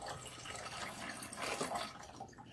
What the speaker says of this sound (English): are going to rinse out the shampoo